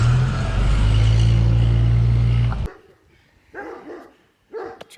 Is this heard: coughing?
no